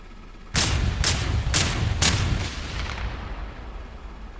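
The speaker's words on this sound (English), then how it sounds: "Somebody's shooting. Who's shooting?" Four heavy gunshots from the combat flight simulator DCS boom at an even half-second pace, each loud and close with a rolling tail that fades out afterward.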